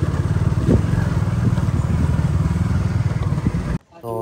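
A motorcycle engine runs steadily up close with a low, even, chugging rumble as the bike is parked at a house in Sylhet, then cuts off abruptly near the end.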